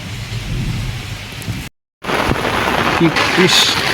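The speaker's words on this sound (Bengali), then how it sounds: "বৃষ্টি পড়ছি" Heavy rain pours down steadily with low thunder rumbling through it, loud and continuous, breaking off for a brief moment before resuming, with a voice briefly heard in the background.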